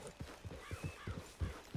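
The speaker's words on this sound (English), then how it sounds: "Get on the horse there." Horse hooves clip-clop in a steady, fairly close trot through the open world of Red Dead Redemption 2, with about a dozen even, rhythmic beats and faint whinny-like tones above them.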